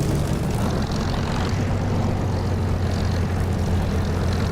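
Four Merlin engines of an Avro Lancaster in the DCS flight simulator make a continuous, loud, low propeller drone, steady throughout with no pauses.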